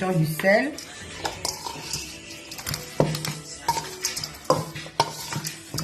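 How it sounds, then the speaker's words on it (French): Liboke with chives, bell pepper, salt and spices is stirred in a pot, giving repeated close scraping, clinks and knocks of a utensil against the cookware in an irregular rhythm. "Et là, je suis en train de mélanger."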